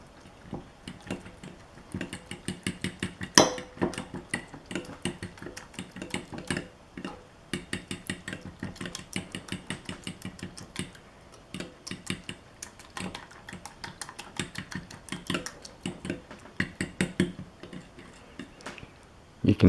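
Eggs being mixed into oatmeal soaked in milk with cornmeal in a bowl, heard as a steady run of quick, close clicking and tapping strokes of a utensil against the bowl, with short pauses.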